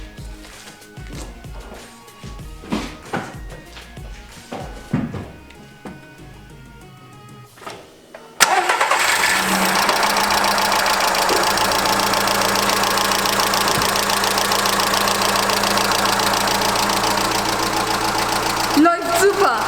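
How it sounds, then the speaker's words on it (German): A 1.4-litre 80 hp VW petrol car engine turns over and catches after some workshop clatter, then settles into a loud, steady idle that hums on evenly after the start. "Jetzt starten wir mal den Motor und schauen,"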